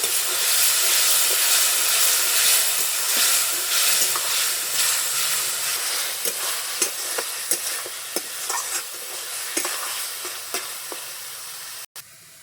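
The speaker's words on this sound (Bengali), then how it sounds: "লঙ্কার গুঁড়া, অল্প জল দিয়ে ভালো করে কষিয়ে নিব" Spices and chili powder fry and are stirred in a pan with a little water while cooking a Bengali fish curry with potato, pointed gourd and okra: a loud, steady sizzle and hiss broken by sharp scraping stir strokes, the frying fading slightly toward the end.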